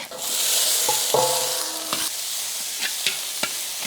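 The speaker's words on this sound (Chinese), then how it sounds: "香辣酱煸香以后放入辅料" Pig lung stir-fried in a hot wok with spicy chili sauce, dried chilies, Sichuan peppercorns, scallion, ginger and garlic: a loud, steady close sizzle with a few sharp spatula scrapes and clinks, no voices.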